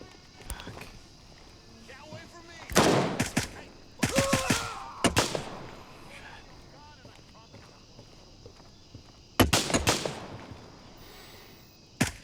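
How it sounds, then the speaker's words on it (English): Gunfire from a hotel balcony in the video game Gray Zone Warfare: several sharp bursts of shots, loud and close, separated by quieter stretches of ambient noise, with a voice talking in between. "Somebody's shooting at me from the balcony at the very hotel."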